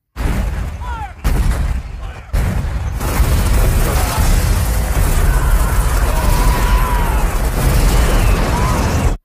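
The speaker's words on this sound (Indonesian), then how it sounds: "Akhirnya, Kolonel Savage meminta kepada pasukan artileri untuk menembakkan peluru mereka ke titik koordinat yang diberikan oleh Kolonel Savage." Artillery shells explode in a battle scene from the Vietnam War film We Were Soldiers, with loud sustained booming and rumbling blasts after a few brief cut-off bursts at the start.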